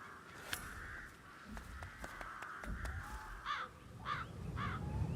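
Birds in a cemetery in the video game Hitman 3 let out three rasping caws in quick succession, preceded by a droning tone and scattered ticks over a low ambient rumble.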